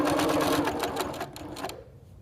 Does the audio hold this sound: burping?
no